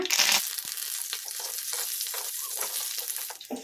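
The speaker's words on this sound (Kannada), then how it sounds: "ಒಣಮೆಣಸಿನ್ಕಾಯಿ ಹಾಕೋಣ ಕಲಿಸ್ಕೊಂಬಿಡೋಣ ಫ್ಲೇಮು ಮೀಡಿಯಮ್ ಫ್ಲೇಮಲ್ಲಿ ಫ್ರೈ ಮಾಡ್ಕೋಬೇಕು ಕರಿಬೇವು ಹಾಕೋಣ" Dried red chillies and curry leaves fry in hot oil over a medium flame for a tempering for brinjal curd raita, giving a close, loud sizzle with crackling spurts and the scrape of stirring.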